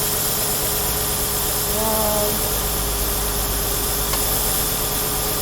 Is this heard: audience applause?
no